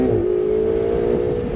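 Car accelerating on a driving course, its engine note climbing and then holding a strong, steady drone, close and loud with no talk over it.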